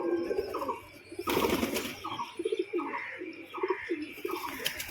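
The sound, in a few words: male pigeon cooing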